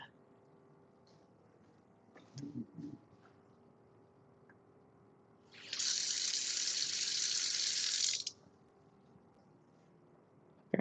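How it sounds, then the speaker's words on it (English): Water runs from a kitchen tap for a few seconds as rice is rinsed under it, a steady hiss in a quiet room, with a brief clunk beforehand and faint handling around it. "I'm gonna take my rice and rinse this off"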